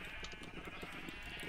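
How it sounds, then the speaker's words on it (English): Sheep bleating in the Minecraft video game, a steady game-audio bleat sitting over a constant bed of background sound, with no clear gaps across the short stretch. "Now, Jake, you're now a sheep, Jake."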